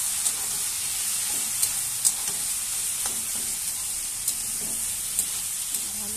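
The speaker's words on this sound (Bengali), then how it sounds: "ভালো করে কষিয়ে নিচ্ছি তরকারিটা" Shrimp and Malabar spinach curry sizzles steadily in a pan while being stirred, a constant close hiss with occasional light scrapes and taps of the spoon.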